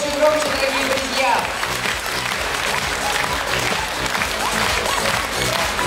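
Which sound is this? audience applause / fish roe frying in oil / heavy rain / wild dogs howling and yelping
audience applause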